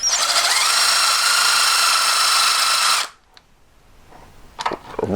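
A heavy, high-torque motor power tool grinds and shapes a metal ring for a cluster ring, a loud steady whine for three seconds that cuts off, followed by faint workshop clatter and brief scraping.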